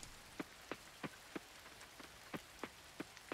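Rain falls in the farming video game Coral Island, soft and fairly quiet, with a hiss underneath and distinct drop-like taps landing at a steady, regular pace.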